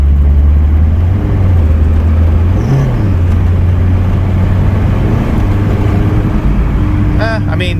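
A car engine runs steadily under load as the driver feathers the clutch to find its slip point, with a low hum holding, rising and falling slightly, and a brief high squeal near the end.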